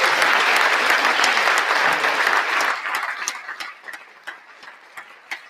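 A live-show audience applauds a panel: a thick, loud wash of clapping that thins after a few seconds into scattered individual claps trailing off toward the end.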